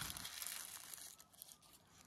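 A transparent plastic bag crinkles softly and quietly during an unboxing, with a continuous rustle of light handling and no voices.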